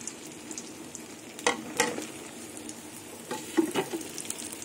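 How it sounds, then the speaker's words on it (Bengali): Pointed gourd (potol) pieces fry in hot oil with a soft, steady sizzle, and a few brief clatters of utensil or pan rise above it now and then. "এবার পটলগুলো তেলে ভেজে নেব।"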